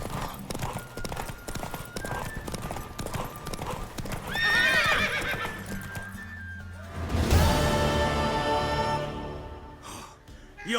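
Video game horse sounds in an open-world RPG: rhythmic clip-clopping hooves gallop close and loud, then a mare gives a long neigh, with clinking tack and a breathy sigh at the end.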